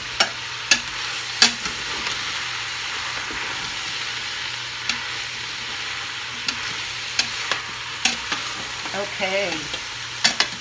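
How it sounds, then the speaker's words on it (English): Diced fire-roasted tomatoes go into a Dutch oven pot of pasta fagioli soup, sizzling steadily while a spoon clacks and scrapes against the pot several times; a voice speaks briefly. "Add in my diced fire roasted tomatoes."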